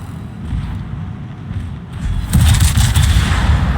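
Naval guns fire in a warship video game, with a low rumbling background that bursts into a loud, sustained boom of cannon fire partway through.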